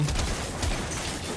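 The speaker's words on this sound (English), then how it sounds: "Gunshot!" Gunfire in the video game Warframe: a quick run of sharp, broadband shots crackles over about a second and a half, fairly loud and steady, with no talk over it.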